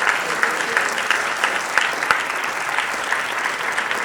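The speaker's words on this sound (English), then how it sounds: "If you can give them a round of applause." An audience at the Ig Nobel Face-to-Face event at the MIT Museum gives the panelists a round of applause, dense, loud continuous clapping with occasional sharper individual claps throughout.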